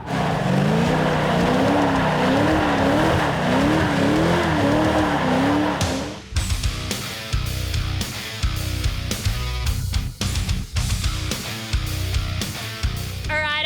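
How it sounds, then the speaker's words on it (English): Cars drifting sideways at Texas Drift Academy during a GT-R festival in the USA: a loud engine roar with a wavering tire squeal, then a rapid run of sharp pops, bangs and revs from the track. "let's check out some sideways action with the Texas Drift Academy"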